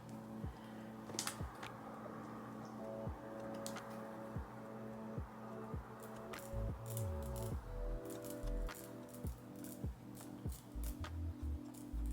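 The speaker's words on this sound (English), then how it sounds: "And I do like to cut my lace a little bit on the messy side" An eyebrow razor trims the lace of a blonde balayage wig in a string of faint, irregular little snips and ticks, all very quiet over a steady low electrical hum.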